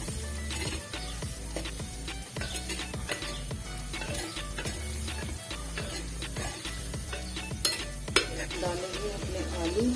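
Tomatoes added to a hot pan with green chilli for aloo shimla mirch, a busy frying sizzle with rapid scraping and stirring clatter throughout, one louder knock near the end.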